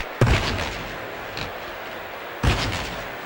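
Two sharp, punchy impacts of a hockey puck being shot in the NHL FaceOff 2003 video game, Bruins versus Sharks, the first loud near the start and a second similar crack about two seconds later over steady arena crowd ambience.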